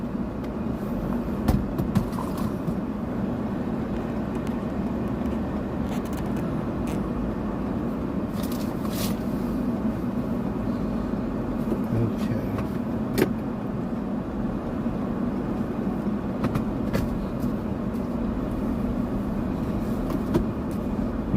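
Steady road rumble from inside a moving Toyota RAV4 on city streets in Los Angeles, a continuous low drone of engine and tyres lasting throughout with no talk.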